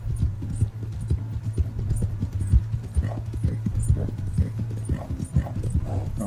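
Galloping horse hooves in the Western game Red Dead Redemption 2 pound in a continuous, even rhythm, close and fairly loud, with little talk over them.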